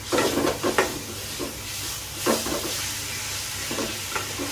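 Ginger and garlic sizzle in a hot pan for a crab gravy, a steady frying hiss broken by a few louder bursts of stirring, with no voices.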